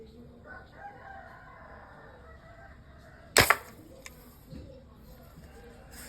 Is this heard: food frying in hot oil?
no